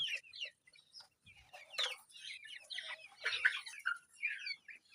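Bahama breed chickens about two months old clucking and chirping in a pen, a steady run of overlapping close calls from several birds.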